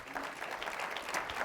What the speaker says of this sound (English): Now give America a round of applause.